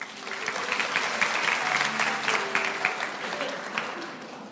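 A church congregation applauding steadily for several seconds, dense clapping at an even level throughout, fairly close and loud.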